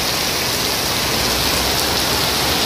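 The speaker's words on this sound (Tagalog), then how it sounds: "Grabe, lakas ang ulan na to." Heavy rain pours down steadily on surfaces outdoors in a dense, loud, unbroken hiss that fills the whole stretch, with no voices or other sounds breaking through.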